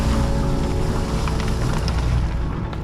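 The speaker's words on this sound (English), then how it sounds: "I was glad the engine was running well, as this was a heavily trafficked area." A boat's engine runs steadily while it moves slowly through a busy harbor near the entrance to Vlieland in the Netherlands, a continuous loud rumble with wind and water wash and a few faint higher clinks, no talk.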